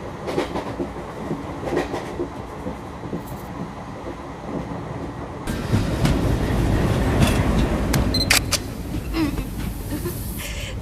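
A train runs steadily along the rails in a Bollywood film scene, a continuous rumbling clatter that grows noticeably louder and busier about halfway through, with no voices over it.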